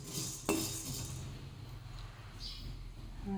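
Stirring sago pearls (sabudana) as they roast dry in a pan, giving a soft, steady scraping and rustling with a sharper clink near the start, close by and fairly faint.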